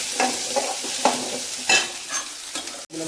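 Onions sauté in a pan with a close, even sizzle broken by several distinct stirring scrapes of a spoon, with no voices.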